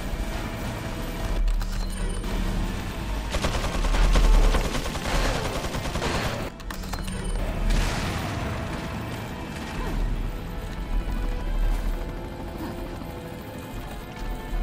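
Gunfire and mechanical clatter fill a Resident Evil 4 fight, with shots on bursts of broadband hits, a loud crash-like peak around the middle, and a steady layer of game noise throughout; no voices heard.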